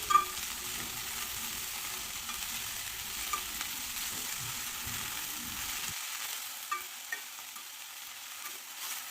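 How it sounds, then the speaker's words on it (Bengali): Cauliflower leaves stirred and fried in a pan, a faint steady sizzle with occasional scraping taps of a spoon, which cuts to near silence partway through. "কপি পাতাগুলো এর মধ্যে যোগ করে দেব এক দু মিনিট একটু নাড়াচাড়া করে নেব যাতে কপি পাতাটা একটু নরম হয়ে যায়"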